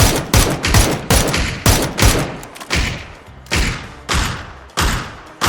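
Loud gunfire sprayed in PUBG: Battlegrounds, a string of heavy, punchy shots fired in an uneven rhythm roughly every half second, each ringing out briefly before the next, with no voices.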